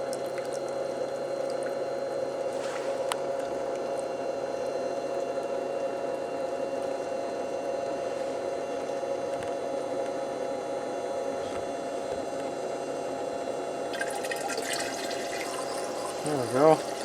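Water pumped through a gold prospecting sluice during a cleanup, a steady close rushing and gurgling flow that runs unbroken throughout, with a brief louder splashing surge near the end.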